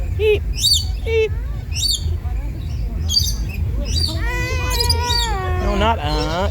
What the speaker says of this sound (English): Look at that bird.